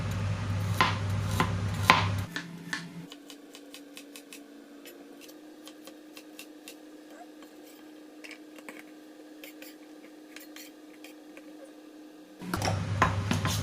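A knife slices vegetarian chicken tofu on a board, a long run of light, crisp ticking cuts at an irregular pace, close and quiet, framed by louder bursts of handling at the start and end.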